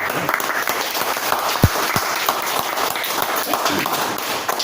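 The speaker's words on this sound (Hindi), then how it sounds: "तो एक बार श्रद्धांजलि पूर्वक ताली दो।" An audience at a motivational business seminar claps steadily together as a tribute, a dense sustained applause with a few sharper claps standing out.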